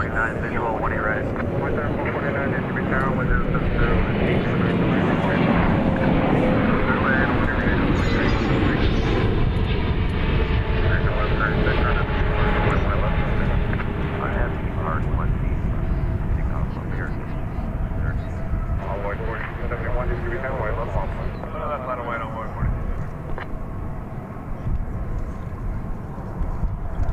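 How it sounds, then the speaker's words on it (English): A large passenger airliner, American Flight 51, roars overhead near a busy airport runway. The broad engine rumble holds loud and steady for the whole stretch, then its high whine fades away in the last seconds. "I heard that coming in from behind my head, and I thought, that sounds like a large plane."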